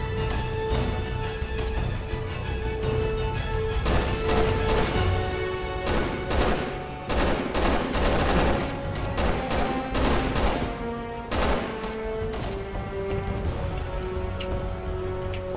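Sustained gunfire in the co-op mode of the Resident Evil 6 video game: dense, loud volleys of rapid shots and bursts that roll on almost without pause, with a few brief lulls between heavy clusters.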